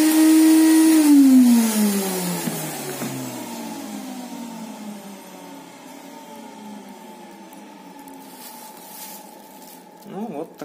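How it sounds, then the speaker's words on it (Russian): A homemade vacuum former's pump switches on with a loud steady whine that drops in pitch over the first seconds, then settles into a quieter continuous hum that runs to the end. "и включаем наш вакууматор"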